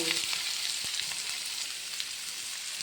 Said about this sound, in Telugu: ఉల్లిపాయలు కూడా ఇందులోనే వేగిపోతాయి మగ్గిపోతాయి